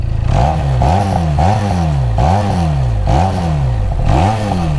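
A QJ Motor SRK 400 motorcycle engine revs repeatedly, five or six sharp throttle blips rising and falling in quick succession, loud and close.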